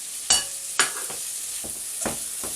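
Gammon slices dropped into a hot pan for a stir fry, hissing in sharp bursts as each piece lands, followed by a steady close sizzle with a few softer scrapes of stirring.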